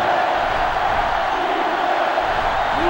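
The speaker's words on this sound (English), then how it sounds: "this crowd is going absolutely insane" A stadium crowd in the NCAA Football 07 video game roars in a dense, continuous wall of noise, loud and unbroken throughout with no clear individual voices.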